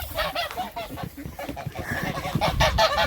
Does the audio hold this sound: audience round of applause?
no